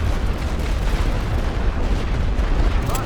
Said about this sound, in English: That artillery didn't do them any favours.